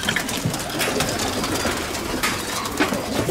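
Andalusian pigeons cooing at a pigeon show, a dense, steady murmur of overlapping coos from many birds filling the hall at moderate loudness, with no voices on top.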